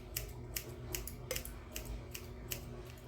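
Scissors snip repeatedly through the synthetic fur beard of a handmade mushroom gnome, about eight crisp, close cuts in a steady rhythm over quiet room tone.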